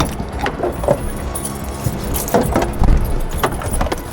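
Car keys jangle and clink repeatedly in a video game, bright metallic rattles coming in irregular bursts, loud and close over a steady low background hum.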